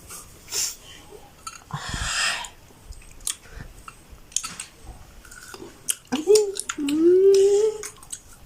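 Sour tamarind being chewed and eaten up close, with wet irregular chewing and biting sounds mixed with breaths and snorts, plus a brief vocal sound near the end.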